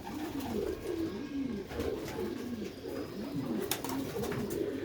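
Sialkoti pigeons coo steadily on a rooftop, their low repeated rolling calls overlapping at moderate distance over a faint outdoor background hum.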